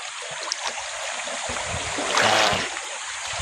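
A strong river current rushes steadily past, a broad continuous wash of flowing water that swells louder for a moment toward the end, with faint low knocks underneath.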